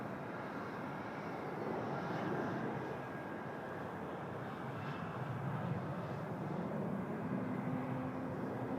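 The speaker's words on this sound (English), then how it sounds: "Toronto Tower, 321 rolling" An Airbus A321 airliner rolls for takeoff at Toronto Pearson airport, heard from a distance as a steady broad jet roar that swells slightly and holds, with no one talking nearby.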